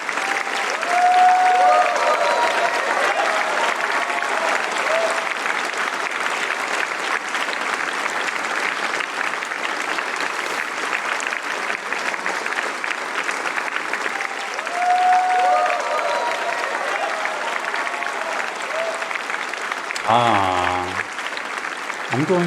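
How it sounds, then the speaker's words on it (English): Long standing ovation for a live symphonic orchestra performance of a video game soundtrack, dense continuous clapping from a large crowd with faint whistles and cheers, sustained for many seconds before a brief cut near the end. "Standing ovation. This is a long round of applause."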